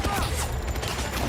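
Rapid gunfire in Wolverine video game footage, a continuous clattering stream of shots with environmental destruction, loud throughout and mixed with background game noise.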